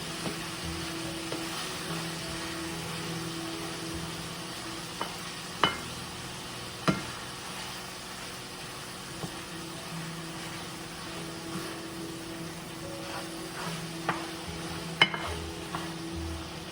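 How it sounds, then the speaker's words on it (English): Taco meat browning in a pan, a steady low sizzle under repeated stirring, with occasional sharp clinks and scrapes of a utensil against the pan. "And then you just stir it around until it's brown."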